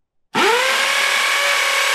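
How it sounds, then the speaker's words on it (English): A power drill spins up sharply from silence and holds a steady, loud whine while boring screw holes into a wall to mount a rainwater downpipe diverter. "Having drilled the holes"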